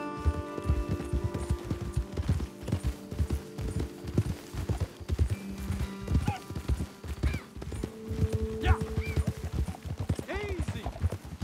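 Horses in the video game Red Dead Redemption 2 clip-clop along at a steady walk, hooves thudding rhythmically while people talk over them and a horse snorts near the end.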